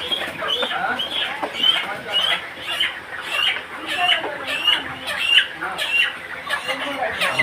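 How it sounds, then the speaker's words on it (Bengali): Chickens on a poultry farm being caught at night for transport to market squawk and cluck in a loud, rhythmic series of alarmed calls, repeated over and over with barn commotion behind. "মুরগি ধরতেছে।"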